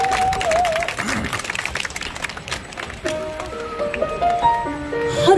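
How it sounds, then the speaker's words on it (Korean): Audience claps at an outdoor singer's performance during a seaside festival at Manlipo Beach in Taean, with a brisk patter of applause that continues as sung melody and instruments begin. "큰 박수 부탁드립니다."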